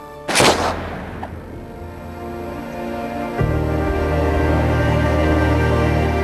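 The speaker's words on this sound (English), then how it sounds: "King Ananda dies from a mysterious gunshot at home in his bed." A single gunshot cracks sharply at the start, loud and close, then a low rumbling tone swells in behind it and holds to the end with no voices.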